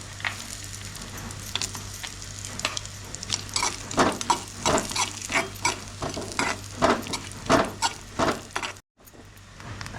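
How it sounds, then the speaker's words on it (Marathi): Grated coconut dry-roasting in a pan is stirred briskly, with rhythmic scraping strokes and a light sizzling crackle, close and fairly clear, ending in a brief pause. "आता आपण खोबरं घेऊया भाजून"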